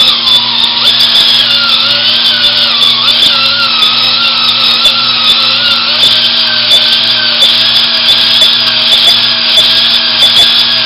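A cylinder hone spins and strokes inside an engine cylinder with a loud, steady whirring drone and a gritty abrasive rasp. Its pitch wavers gently as the tool moves up and down, running continuously with no talk.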